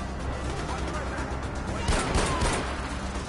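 Pistol shots in the shooter game Far Cry 4, a couple of sharp cracks over a noisy busy background near the middle, fairly loud and brief.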